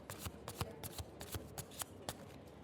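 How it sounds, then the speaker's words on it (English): Tarot cards are shuffled by hand at close range, a quick, soft series of riffling, papery flicks in an irregular rhythm, with no talk. "Now, I'll shuffle the cards."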